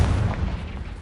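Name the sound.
Bombarda and Confringo spell blasts in video game Hogwarts Legacy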